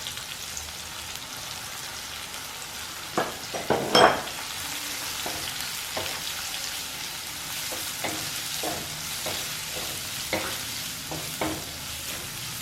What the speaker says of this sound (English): Now we will add this cabbage.